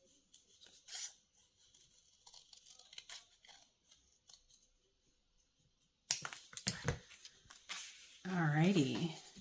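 Scissors snip through paper ephemera in a fussy-cutting craft session, a run of close, crisp cuts and rustles after quieter handling sounds, with a voice speaking near the end.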